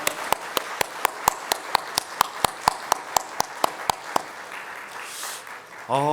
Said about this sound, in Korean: 우리 축복하며 우리 선교사님들 박수하겠습니다.